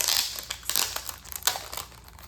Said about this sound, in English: Sorry for the paper noise there.